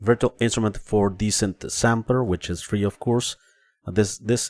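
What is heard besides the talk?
No distinct noise like a dog, phone or traffic.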